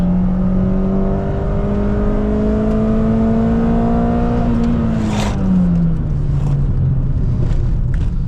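Peugeot 206 engine revving hard as the car accelerates to the top of second gear, a loud steady drone climbing in pitch, then easing off with some wind and road noise, no talk.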